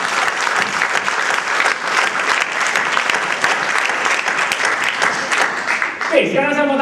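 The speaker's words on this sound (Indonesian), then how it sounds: "Tepuk tangan dulu orang yang luar biasa." A seminar audience breaks into loud, sustained applause, dense clapping from a large crowd filling the room, before a voice begins speaking at the very end.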